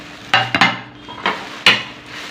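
Ceramic plates, including a designed half plate, clink against each other as they are handled: a handful of sharp, close knocks and rattles at uneven intervals, with quieter handling noise between them.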